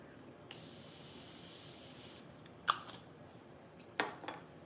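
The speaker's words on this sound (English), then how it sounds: "setting mist or setting spray on your face before you blend" A makeup setting spray mists onto a face in a soft, sustained hiss lasting over a second, followed by a few faint clicks and taps in a quiet room.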